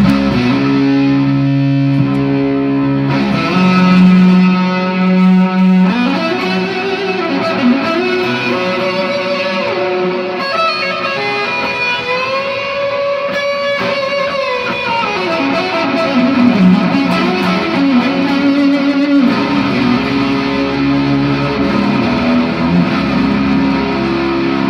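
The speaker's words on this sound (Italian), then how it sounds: "ora andiamo a vedere come suonano i tre pedali con un po' di fuzz, con un po' di distorsione." Electric guitar played with fuzz distortion through delay pedals, including a 1978 Electro-Harmonix Memory Man, sustained distorted notes and bends with echoing repeats, steady and loud throughout with no talking.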